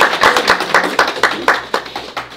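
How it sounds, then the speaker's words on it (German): Steady rhythmic clapping from a small group in a documentary about a healer in Venlo, about ten distinct claps in quick even succession, close and fairly loud with no talk over it. "Krieg ich Applaus?"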